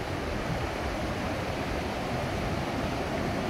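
Sea surf rolling onto the beach at Tramandaí, a steady broadband wash of breaking waves with wind noise on the microphone, continuous and fairly loud throughout with no voices.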